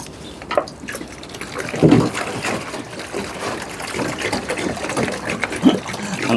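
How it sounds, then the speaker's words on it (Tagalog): Water is poured into a container for pigeons, a close, uneven trickling and splashing that swells and eases over several seconds with no talking. "Lagyan natin ng tubig."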